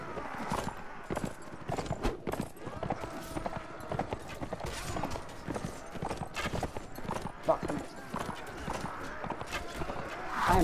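Horse hooves clip-clop in a steady galloping rhythm while riding in Mount & Blade: Warband, with battle noise around and someone talking and swearing over it throughout.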